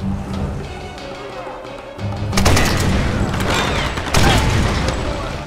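Gunfire in a Tomb Raider video game fight on a coast, loud bursts of shots and blasts erupting in waves, with a voice talking underneath.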